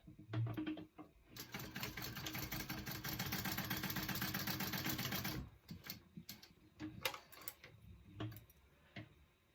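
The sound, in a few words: sewing machine stitching sides of clutch bag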